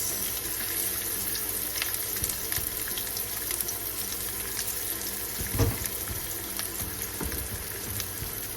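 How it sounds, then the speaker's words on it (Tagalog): Chopped onion hits hot cooking oil for a beef broccoli with mushroom and pak choi stir-fry, a dense, steady, water-like hiss of frying with a few louder crackles, no talking. "Painitin natin ang mantika. So, ilagay na natin ang sibuyas."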